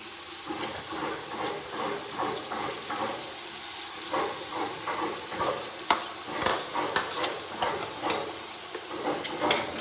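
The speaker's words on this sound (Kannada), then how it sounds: "ಇವಾಗ ಮಾಡ್ಕೊಂಡಿರುವಂಥ ಈ ಪೇಸ್ಟ್ನ ಹಾಕಬೇಕು." Spice paste for mutton sambar sizzles and fries in a pan while being stirred, a steady hissing fry under repeated scraping strokes of a spoon against the pan, close by.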